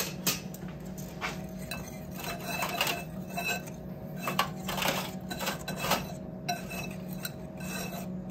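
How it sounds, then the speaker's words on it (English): Salt, baking soda and cinnamon are mixed into flour in a bowl for carrot cake, with continuous rasping, scraping strokes and light clinks from the utensil against the bowl. "we're gonna take our salt, baking soda, and cinnamon and mix that into our flour"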